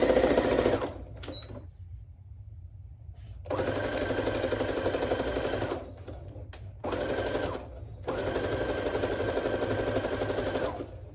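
Sewing machine stitching a small welt on plaid fabric for men's pants, running in three steady bursts of rapid mechanical stitching separated by short pauses, close and clear with no talking.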